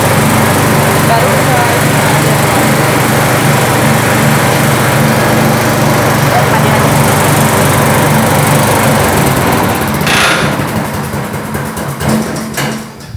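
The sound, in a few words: cassava processing machine running in mocaf factory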